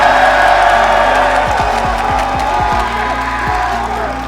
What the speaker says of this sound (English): You can hear the crowd support.